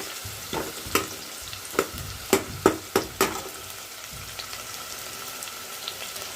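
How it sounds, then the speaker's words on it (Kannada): Onions frying in a pan for vegetable saagu, with a soft sizzle under a run of rhythmic spatula scrapes and clacks, about seven strokes close together before the stirring eases off. "ಈರುಳ್ಳಿ ಫ್ರೈ ಆಗ್ತದೆ"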